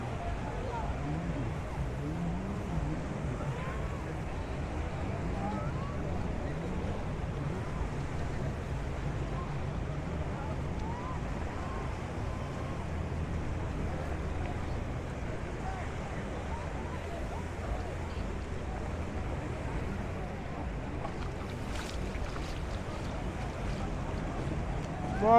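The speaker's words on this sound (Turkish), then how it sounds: "çevreden çok fazla motor sesi geliyor" Boat motors run steadily off Koh Larn island near Pattaya, Thailand, a constant low droning rumble mixed with wind and sea noise over the whole stretch, with a person talking throughout.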